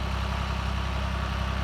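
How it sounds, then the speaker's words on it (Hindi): Tractor engine of around 50 HP pulling a two-furrow MB plough through a field, a steady low idling drone throughout with no talk. "देखो उधर ट्रैक्टर चल रहा है"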